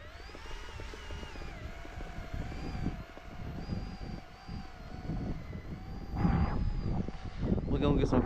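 FMS Pilatus PC-21 1100mm RC model airplane taxiing with its electric motor running, a continuous whine that rises and falls in pitch, with voices talking over it near the end.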